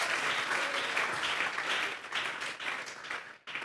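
Church congregation applauding in worship, dense continuous clapping from many hands filling the room, fairly loud, thinning briefly near the end before picking up again.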